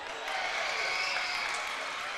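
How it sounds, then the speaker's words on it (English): A home crowd at a high-school basketball game between Badger and the Maumelle Hornets roars in a steady, dense wash of cheering and clapping that swells slightly and holds. "Crowd is going crazy."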